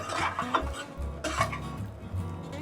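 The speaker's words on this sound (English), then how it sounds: "here I am adding some corn, sweet corn, and toast well until the golden brown color comes." Sweet corn toasting in olive oil with chopped garlic in a pan for a vegan protein bowl: soft sizzling under a few clinks and scrapes of a utensil stirring against the pan.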